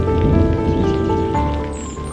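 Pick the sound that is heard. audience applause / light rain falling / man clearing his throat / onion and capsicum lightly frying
light rain falling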